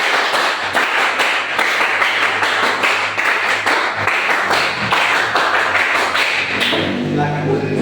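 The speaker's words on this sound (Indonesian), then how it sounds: "2 kali tepuk pramuka." Indonesian classroom students performing the Pramuka scout clap, a loud, dense run of rhythmic group hand claps filling the whole stretch, with brief voices mixed in near the end.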